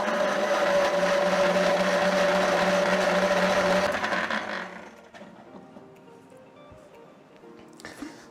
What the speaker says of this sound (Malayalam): നമുക്കിനി അടച്ചിട്ട് മിക്സിക്ക് നന്നായിട്ടൊന്ന് ബ്ലെൻഡ് ചെയ്തെടുക്കണം